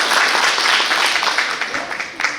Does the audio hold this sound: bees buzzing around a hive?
no